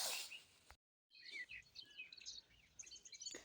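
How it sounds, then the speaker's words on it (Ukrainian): Birds, including starlings, chirp and twitter in a quiet village setting, a series of short, high, fairly faint calls after a brief gap of silence. "слухаю, як співають птахи."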